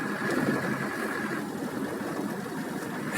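A car engine rumbling low and steady while driving slowly over a rough, partly unpaved road in Ukraine, with constant cabin vibration and no voices.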